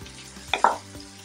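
Shallots, ginger and garlic are stirred in a frying pan: a short, close spoon scrape rises over a faint, soft sizzle.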